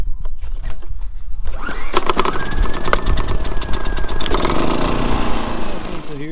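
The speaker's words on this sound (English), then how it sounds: "Got our generator." A portable generator set up at an outdoor station in Tucson, Arizona, starts up with sputtering bursts and then settles into a loud, continuous rattling engine drone close by, with no talking.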